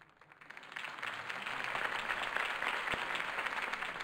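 Crowd applause from the Batman Telltale Series video game swells in after a political campaign speech and holds as steady, dense clapping from a large audience, with no voices over it.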